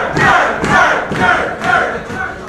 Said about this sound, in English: the crowd is chanting nerve